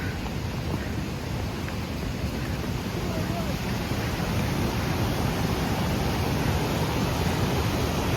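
Dry Creek Falls on the Pacific Crest Trail near the Oregon–Washington border, a continuous broadband rush of falling water, steady and loud, with wind buffeting the microphone.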